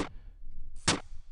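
Two sharp pistol shots from a tile-based video game, each a short bright crack with a quick tail, the second louder and fuller than the first, separated by a brief quiet gap.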